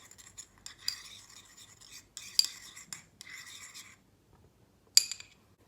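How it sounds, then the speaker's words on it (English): Close scraping and clinking of a utensil stirring a paste with milk in a bowl in irregular strokes, pausing briefly, with a sharper clink near the end. "Mix it well."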